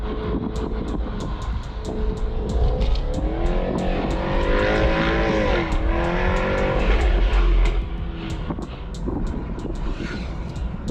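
A Jaguar F-Type supercharged V8 sports car engine roars and revs up and down, its pitch climbing and falling with a throaty, rumbling tone, loud and close.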